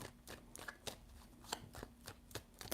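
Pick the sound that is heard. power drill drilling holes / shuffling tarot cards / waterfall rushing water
shuffling tarot cards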